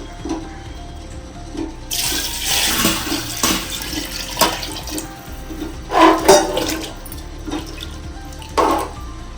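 Water poured from a measuring vessel into a cooking pot for home-style mutton biryani, one and a quarter measures per kilo of rice; a steady gushing pour with splashy surges, close and fairly loud, no talking.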